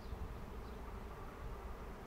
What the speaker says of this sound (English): I'm kind of stuck in the middle of a giant swarm here. They're buzzing around my head